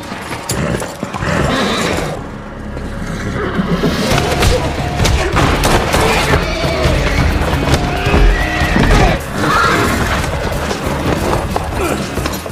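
Horses neigh and stamp in a stable during a John Wick film fight scene, with whinnies, clip-clopping hooves and heavy thuds mixed into a loud, dense soundtrack.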